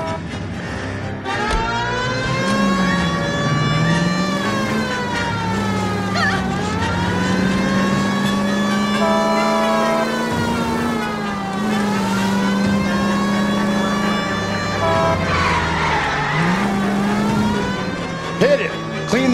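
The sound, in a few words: car driving and skidding in video game L.A. Noire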